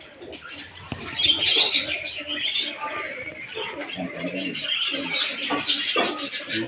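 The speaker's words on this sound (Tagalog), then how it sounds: "Kalapati." Pigeons cooing outdoors in the Philippines, with soft chirps and bird calls mixed with scattered voices and ambient noise, moderately close and steady throughout.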